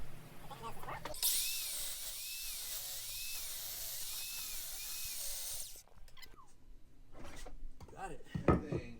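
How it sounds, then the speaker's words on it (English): An outdoor chop saw rips down a wooden fireplace mantel beam: a loud, steady high whine runs for about four and a half seconds, then cuts off abruptly into quieter background sounds. "we took it outside and ripped it down with the chop saw"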